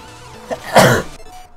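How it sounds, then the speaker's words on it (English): A single forceful sneeze bursts out loud and close at mid-clip, preceded by a short intake and trailing off into quiet room tone. "That was quite a powerful sneeze"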